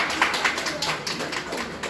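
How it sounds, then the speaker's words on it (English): Clapping for students during a reading exercise at a teachers' workshop in a school classroom, a short burst of scattered hand claps over about two seconds, moderately loud with a roomy, uneven rhythm. "Clap for students."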